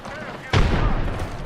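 Grenade blast in a video game heard during an esports watch party: a sudden boom that cuts in partway through and rumbles on for about a second, close and loud under background game noise.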